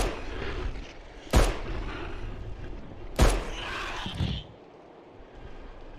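Two sharp, loud gunshots about two seconds apart in FOBIA: St. Dinfna Hotel, each a hard crack with a short echoing tail over a low ambient rumble.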